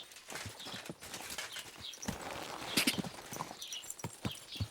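Horse hooves clip-clop in Kingdom Come: Deliverance II, a dense uneven run of dull thuds over a busy ambient bed of game sound, moderately close with no talk.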